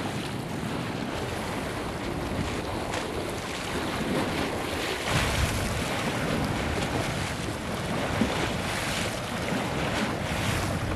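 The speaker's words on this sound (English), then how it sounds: "I love the sound of the water hitting against the seawall." Waves on Lake Pontchartrain slosh and splash against a seawall near the old New Canal Lighthouse in New Orleans, a continuous rolling wash mixed with heavy wind buffeting the microphone, no voices.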